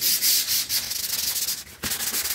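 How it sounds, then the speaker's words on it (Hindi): Sandpaper rubs back and forth across a flush door's wooden surface before wood primer goes on, a close, steady hiss of repeated scratchy strokes in quick rhythm, with a brief pause near the end, no talking. "थोड़ी घिसाई मजाई का विशेष ध्यान रखना दोस्तों"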